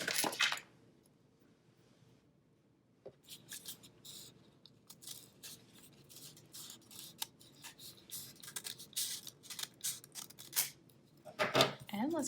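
Scissors snip through paper while cutting out a four-leaf clover shape, a run of short crisp cuts and rustles, fairly quiet and close, with no voices.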